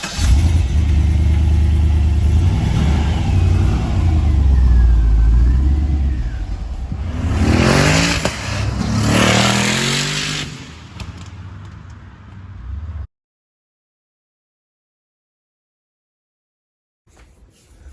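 A 2004-06 Pontiac GTO fitted with a twin turbo kit on a test drive: a deep engine rumble rises through hard revving pulls, then cuts to silence before faint sound returns.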